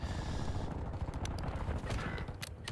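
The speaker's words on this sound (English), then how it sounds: "Listen for the shooting." Gunfire in the online shooter game Warzone, a muffled rattle of distant shooting with a few sharper nearer cracks breaking through a constant rumbling game soundscape.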